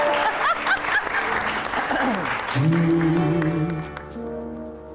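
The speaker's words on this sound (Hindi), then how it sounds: "ये मेरी तरफ से अजीम जाफरी के लिए बहुत सारी तालियां बजाएं।" A studio audience on the Satrangi show claps for Azeem Jafri with full, steady applause that thins after a couple of seconds as sustained musical tones come in beneath it.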